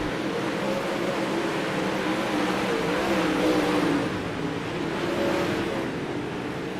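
360 sprint cars at Limaland race around the track, a constant loud engine roar with a wavering pitch as cars circle, no voices.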